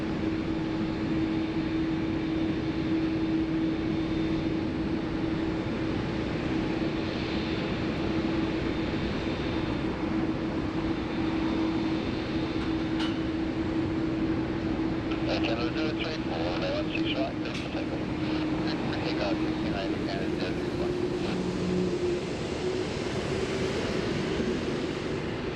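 Air Canada airliner jet engines roar steadily on departure in the rain at Sydney Airport, a continuous distant whine and rumble lasting throughout, with occasional crackles and talk over it.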